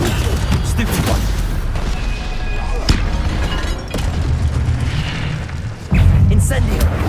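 Stupefy stun spell blasts in Hogwarts Legacy combat, a dense run of loud booming impacts and crackling bursts over a constant low rumble, with a sharp hit near the middle and a heavier surge toward the end.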